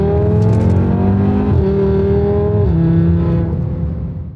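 Converted five-cylinder engine in a VW Golf 7 GTD, a steady loud drone with rising and shifting harmonics as it revs and changes gear, close and continuous with no talk.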